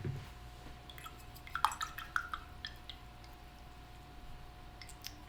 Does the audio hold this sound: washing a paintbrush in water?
yes